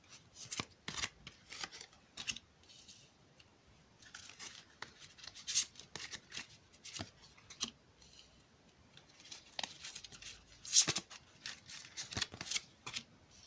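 Fortune-telling cards are shuffled and laid out close by, heard as quick irregular bursts of riffling, snapping and soft slaps separated by brief quiet gaps, with no speech.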